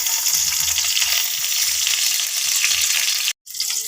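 Two bay leaves crackle and sizzle in hot ghee and oil, a loud, close hiss with low bubbling underneath that cuts out briefly near the end before resuming.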